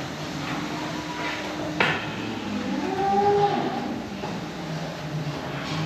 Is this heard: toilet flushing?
no